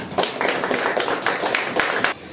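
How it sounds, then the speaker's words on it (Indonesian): Applause from a small classroom group of students during a Hindu religious education lesson: a short burst of close, dense clapping that stops abruptly near the end. "Baik, tepuk tangan."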